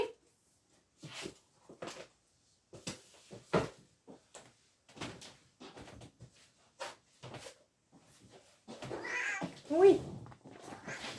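A pet cat meows indoors, with scattered soft knocks and rustles before a clear, drawn-out meow near the end, close and moderately loud.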